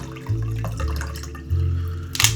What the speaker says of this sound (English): I'm gonna start it off by pouring some water in a cup.